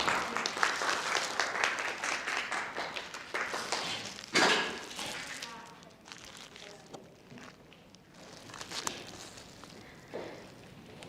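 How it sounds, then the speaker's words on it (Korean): A small audience at a student smoking-prevention presentation contest claps for several seconds, with a louder burst midway, then fades to sparse taps and shuffling footsteps, fairly quiet overall. "여러분 뜨거운 박수로 맞아주시기 바랍니다"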